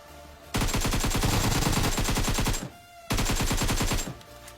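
Gunfire in a mobile battle royale game: two long bursts of rapid automatic fire, loud and close, split by a short pause, with no talking over them.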